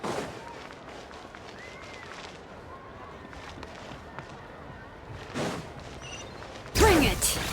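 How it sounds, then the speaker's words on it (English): Festival toy lanterns shooting fireworks in Genshin Impact: a crackling, popping burst rises sharply near the end, after a stretch of scattered game sounds, with a loud crack around the middle. "They're toys that shoot fireworks."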